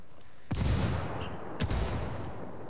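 Two sharp, loud gunshots about a second apart in a Ghost Recon Wildlands ranked PvP match, each a heavy blast with a short rumbling tail over steady background noise.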